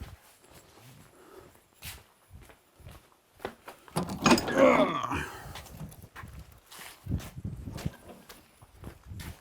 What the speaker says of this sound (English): And I guess I should open the door.